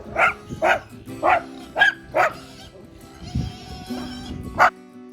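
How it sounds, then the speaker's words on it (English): Several dogs bark in short, sharp yips and bow-wows, about five quick barks in a row and one more a moment later, fairly close, at feeding time on an off-grid homestead, with a low murmur in between. "Is that the way to greet me with all this barking?"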